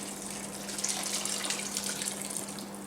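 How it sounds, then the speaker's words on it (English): A pint of hot beef stock made from a Knorr stockpot pours into a pan on a Cobb barbecue, a steady splashing gush heard up close without talking. "I'm just going to add a pint of beef stock"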